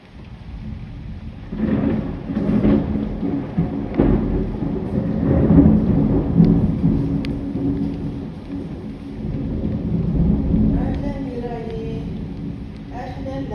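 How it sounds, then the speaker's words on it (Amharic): Rain and rumbling thunder on a rainy day in Saudi Arabia, a steady wash of rainfall with rolling low rumbles swelling and fading, and a voice speaking faintly over it. "ዛሬ ዝናብ ነው ሳውዲ አረቢያ"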